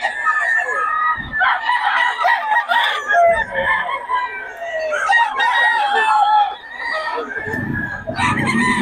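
Roosters crow repeatedly with hens clucking close by, a busy flock of chickens calling over one another in overlapping bursts, with people talking in the background.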